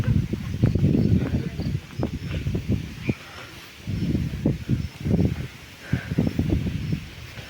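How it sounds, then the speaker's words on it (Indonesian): Strong wind gusts on Mount Penanggungan rustle leaves and vegetation in loud, irregular bursts that rise and fall over several seconds. "Kondisi angin cukup kencang boy."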